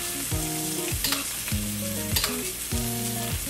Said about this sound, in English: So, nice oil and butter bath,